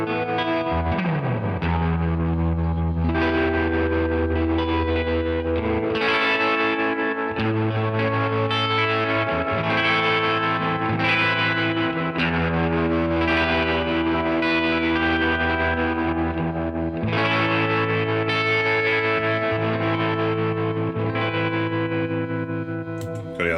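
Electric guitar played through an amp modeler with the reverb turned way up, distorted chords and sustained notes washing into long echoing tails, loud and continuous with rhythmic strums and no talking.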